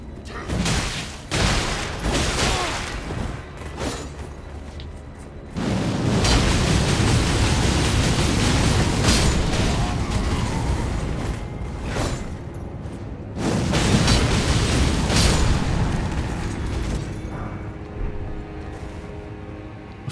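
An explosive pot detonates in Elden Ring Shadow of the Erdtree, producing a series of loud, booming blasts with crackling, rumbling tails that swell and fade over about twenty seconds.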